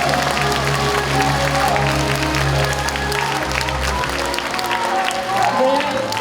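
A crowd claps at a hope talk concert with the county governor, the applause running steadily under amplified music and some voices throughout.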